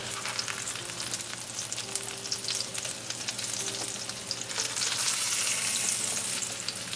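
Breaded pork loin chops pan-fry with a continuous, close crackling sizzle that swells louder toward the end, alongside faint stirring scrapes and no speech.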